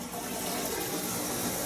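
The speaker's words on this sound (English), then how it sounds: "Plenty of water going directly into the RODI system." Water stream from a length of tubing pouring into a RODI water filtration system, a steady splashing rush at moderate volume with no breaks and no talking.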